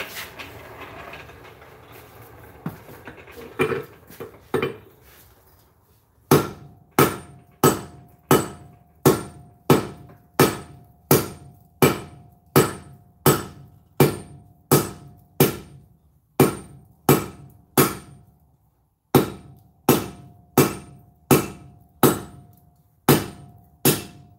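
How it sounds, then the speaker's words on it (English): A power hammer forges metal with a long run of loud, evenly spaced ringing blows, roughly two per second, each with a metallic clang. It pauses briefly once and then resumes after a quieter shuffling start. "I'm gonna use my power hammer for this and make it really easy"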